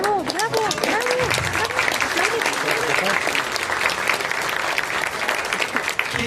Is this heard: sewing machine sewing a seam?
no